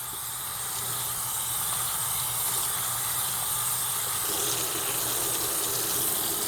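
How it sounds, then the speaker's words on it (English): Water running steadily from a sink tap while hands are rinsed, a continuous hissing gush that stays close and even throughout, with no talking. "I'm going to turn the tap on"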